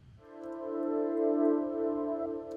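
A darker minor ninth chord swells in softly as a smooth sustained synth pad, held steadily for about two seconds at moderate level before easing off.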